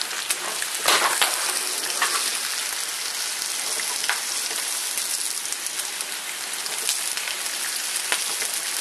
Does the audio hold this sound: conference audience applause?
no